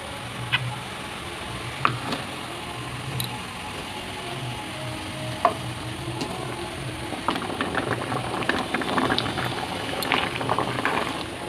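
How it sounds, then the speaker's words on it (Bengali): Water boils in a pan, a continuous low bubbling and rumbling with scattered small clicks and pops throughout, steady and close, growing slightly busier toward the end. "এখানে আমার জলটা এরকম ফুটে গেছে।"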